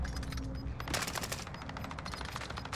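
Rapid automatic gunfire in the video game Warzone comes in loud, dense bursts with short gaps, rattling continuously throughout.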